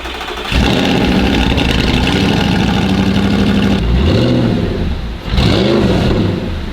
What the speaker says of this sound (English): Some interesting noise coming out of the exhaust